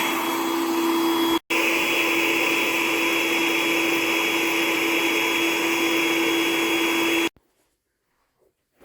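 A reversible electric air pump on an inflatable bed runs with a steady, loud motor whine for about seven seconds, with one brief cutout near the start, then stops abruptly into near silence.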